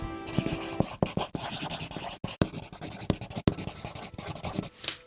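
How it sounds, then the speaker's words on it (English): Pen scratching across paper in quick, irregular strokes, close and fairly quiet, with short pauses between bursts of writing and no talk. "Let me write that down"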